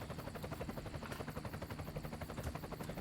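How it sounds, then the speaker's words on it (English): Helicopter rotor chop in a sound effect for a tabletop role-playing scene, a steady fast beating pulse with low drone, moderately loud and continuous, no talking. "a helicopter flies in overhead"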